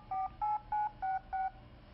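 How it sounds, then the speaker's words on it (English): An Apple Newton dials a phone held up to its speaker, playing a steady run of five even DTMF tone beeps, clear and evenly spaced against a quiet background. "Hold the phone up to the speaker, and Newton would actually dial the phone."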